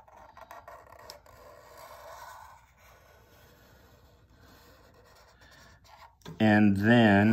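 A Sharpie marker sweeps a large spiral across paper, giving a steady soft scratchy rasp of continuous strokes for several seconds before a sudden loud tonal burst cuts in at the end.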